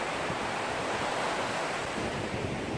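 Sea surf rolls onto the beach at Tanjung Kubong, Labuan, a loud constant wash of breaking waves mixed with wind buffeting the microphone, with no voices.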